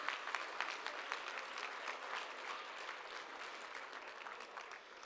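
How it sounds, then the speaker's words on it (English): A crowd at a culinary competition applauds its food-service sponsors, a fairly faint, even wash of clapping that holds steady for several seconds before tapering slightly. "Can we all give them a round of applause?"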